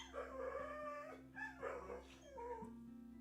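A needy pet dog whimpers and whines in a few drawn-out, high-pitched bursts close by, over a steady low hum.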